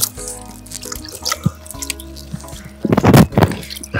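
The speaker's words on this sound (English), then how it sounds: "Let me pour you water." Water is poured into a glass: trickling and dripping at first, then a louder burst of splashing pour near the end, close and alone without talk.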